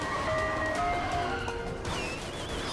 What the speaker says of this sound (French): Un camion de glace!